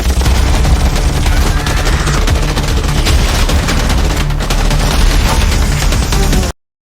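Gunfire in a war film about child soldiers: loud, sustained volleys of rapid shots that roll on continuously for about six and a half seconds, with no speech, then cut off abruptly.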